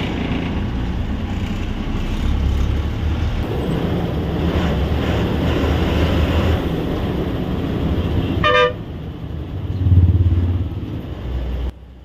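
A bus pulls up at an RTC bus stand with a steady engine rumble and road noise, a short horn toot partway through, then a louder low surge as it arrives before the noise drops.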